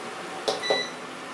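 Two short electronic beeps from a Hilton EKI 3897 induction cooktop being switched off, close and fairly clear, over a quiet hum with no talking.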